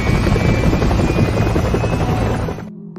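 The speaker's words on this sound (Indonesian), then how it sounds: "helikopter itu kembali dan mencoba menyelamatkan mereka berdua" A helicopter in a zombie film roars close and loud with a dense, steady rotor beat, then cuts off abruptly near the end, leaving near silence.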